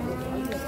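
Dairy cows at a busy livestock market, a short low bovine moo-like drone lasting under a second amid general market murmur.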